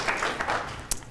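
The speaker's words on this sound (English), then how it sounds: "So can we give him a round of applause?" Audience applause at a university statistics showcase, a brief burst of clapping from a seated crowd, fairly close, with a sharp louder clap near the end of the short stretch.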